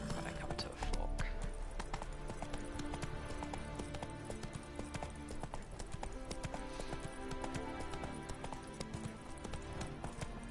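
Roach the horse gallops along a road in The Witcher 3, hooves beating in a quick, continuous clip-clop rhythm under a steady game soundscape, with someone talking briefly at points.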